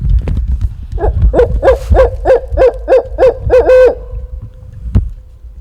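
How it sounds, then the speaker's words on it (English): A barred owl hoots outdoors in wooded Virginia hills, a loud rhythmic series of about a dozen calls rising into a final trill, with rustling and low background noise beneath. "We have located the elusive barred owl."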